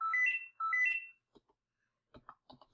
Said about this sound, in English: Oh god, phones are ringing right now.